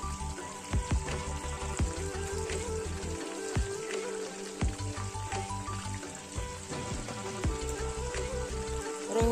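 Rohu fish frying in a pan over low gas: a steady, close oil sizzle with soft crackles and occasional spatters, running continuously with no talk.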